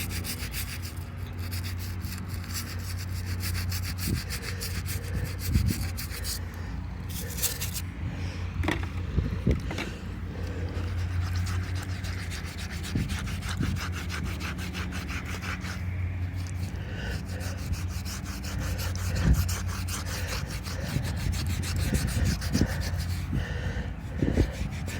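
A sponge scrubs steadily across a gravestone with a continuous close, rough rubbing rasp and repeated strokes, wind or outdoor noise underneath.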